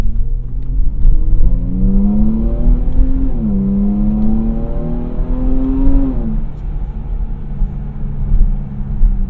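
A 2017 Jaguar F-Pace R Sport SUV in sport mode accelerates hard, its engine note climbing steadily through one gear, dipping briefly at a shift, then rising again before easing off, loud and close from inside the cabin.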